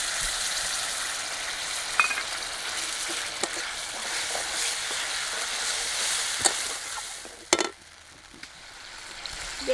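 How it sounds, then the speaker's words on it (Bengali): Ground tomato paste for paneer masala fries in a pan with a faint, even hiss of sizzling oil, broken by a few soft clicks and one short clatter near the end. "বাটা টমেটোটা দিয়ে দিচ্ছি,"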